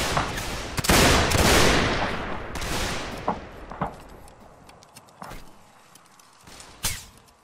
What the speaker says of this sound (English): hold here on the fence and take shots